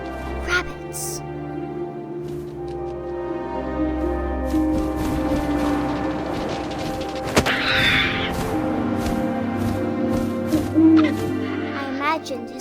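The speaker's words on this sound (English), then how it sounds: "And suddenly, I was an owl." An owl hoots in the video game What Remains of Edith Finch over soft wind ambience, while a narrator speaks throughout.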